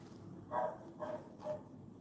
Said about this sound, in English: You guys hear that little dog barking?